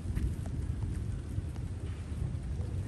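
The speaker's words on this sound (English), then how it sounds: "It's raining." Rain falls steadily outdoors during a thunderstorm, with a dense wash of drops and a low, rumbling wind-and-thunder roar underneath that continues without a break. No voices are heard.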